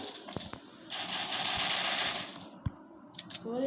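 A rapid burst of automatic gunfire in the mobile game Mini Militia rattles for about a second, followed by a few sharp isolated shots, fairly quiet overall.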